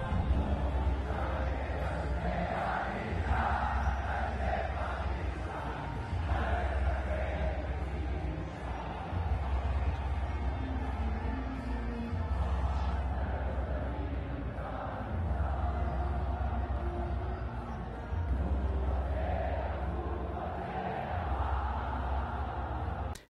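A huge street protest crowd in Pakistan over Imran Khan's removal roars steadily, with dense overlapping chanting and shouting that swells and dips in waves, while a voice talks over it.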